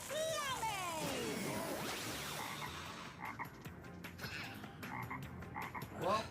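A cartoon toad croaks in a sequence of deep, throaty croaks that follow a swooping whoosh of animated effects and play out against background music.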